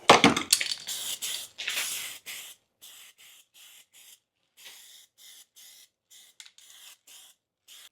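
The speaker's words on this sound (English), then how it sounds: "I'm going to spray this down before I weld it" Close aerosol spraying of weld-through primer on metal parts in a series of hissing bursts, long and loud at first, then shorter, quieter spurts with brief pauses.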